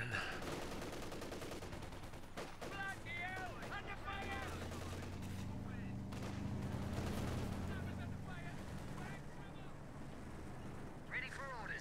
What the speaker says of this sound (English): Anti-tank gun engaging us.